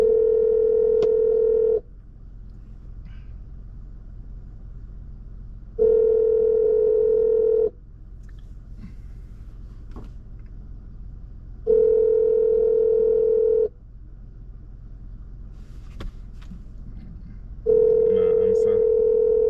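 Repeating telephone ringback tone from an outgoing call, steady buzzy bursts of about two seconds separated by pauses of about four seconds, heard four times with faint background noise between them.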